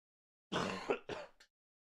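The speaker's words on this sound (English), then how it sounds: "That's a worrying cough." A single short cough burst followed by a couple of smaller throat sounds, close and fairly clear over silence, during commentary on a GOP presidential primary debate.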